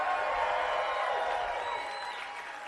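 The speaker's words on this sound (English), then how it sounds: "Let's one more cheer for these girls." A crowd cheers and applauds the girls who competed in a Chicago deep water solo climbing event, a dense burst of clapping with whoops and whistles that fades over a few seconds.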